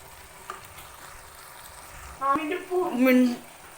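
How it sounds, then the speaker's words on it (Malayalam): Masala-coated chicken hits a hot pan for Arabic rice, starting as a faint background hiss and breaking into loud, bubbly frying and sizzling bursts over the last second and a half, with no talking. "അപ്പം ചിക്കൻ നമ്മൾ ആഡ് ചെയ്ത് കൊടുക്കുകയാണ്"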